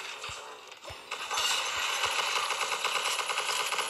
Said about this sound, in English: I'm literally shooting everywhere